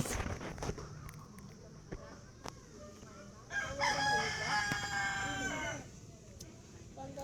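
Rooster crowing outdoors, one drawn-out cock-a-doodle-doo rising mid-clip at moderate distance, with scattered clucks, clicks and faint background noise around it.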